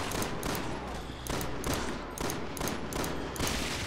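Sustained automatic gunfire in the Resident Evil 6 video game, rapid bursts of shots separated by short gaps, steady and fairly close, with no talking.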